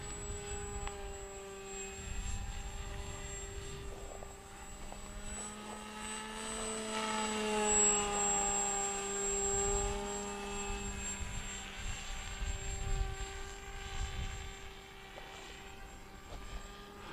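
A Bixler 2 RC foam airplane flies overhead, its electric propeller giving a steady, thin whine that swells and fades as it passes at moderate distance, manoeuvring on high rates.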